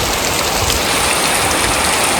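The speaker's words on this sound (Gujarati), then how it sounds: "સતત એક ધારો વરસાદ ચાલુ છે મસ્ત વરસાદ પડે જોરદાર" Steady heavy rain falling in a village, a loud, dense, unbroken hiss of drops pounding surfaces close by, with no voices.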